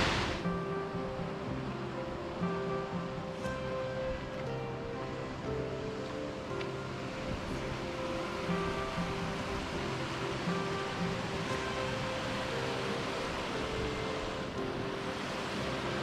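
Steady broadband rush of Queen Mary Falls, a waterfall near Killarney, Queensland, heard from a forested lookout, a continuous even roar running throughout with no talk.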